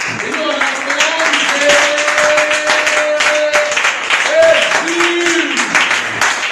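Church congregation clapping and acclaiming Jesus: dense, steady applause throughout with voices calling out and sustained vocal tones over it.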